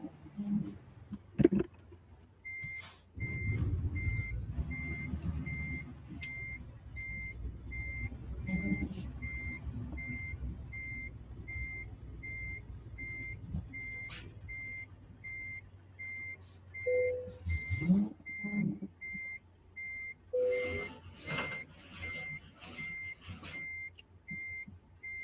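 Steady, evenly spaced reversing beeps from a truck backing a trailer into a parking spot in American Truck Simulator, playing over low engine rumble and hiss. Brief clatters break in, and a voice speaks intermittently.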